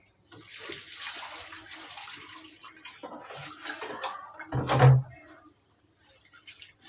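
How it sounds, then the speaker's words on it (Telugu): Gongura leaves being rinsed in water in a home kitchen: loose sloshing and splashing with a louder burst near the end, no talk. "అలాగే నీళ్ళు వస్తేస్తా గుండెకూరలోకి"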